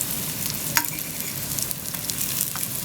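Salt fish cakes fry in a hot pan with a steady, close crackling sizzle, a few sharper pops standing out, and no voices over it.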